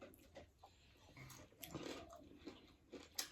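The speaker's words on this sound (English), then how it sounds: "It's a crunchy pork." Quiet, close chewing and biting on crunchy pork during a meal, with irregular soft crunches and mouth noises scattered over a few seconds.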